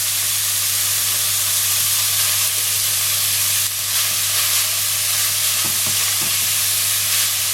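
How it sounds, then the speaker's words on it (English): Ground mince sizzles and hisses steadily in a non-stick frying pan, with the soft scrape of a wooden spoon stirring through it, close and continuous with no talking. "wooden spoon, non-stick pan. Just want to colour this really."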